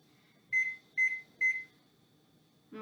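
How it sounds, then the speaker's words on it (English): An oven timer being set beeps three times in an even rhythm, short clear electronic tones close by in an otherwise quiet kitchen, followed by a faint low sound at the end. "So we are going to set the timer for 5 minutes."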